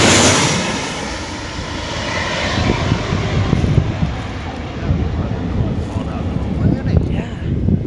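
A fixed-wing airliner passes low overhead while landing at Zakynthos airport, its engines a loud, broad roar with wind buffeting the microphone and voices nearby.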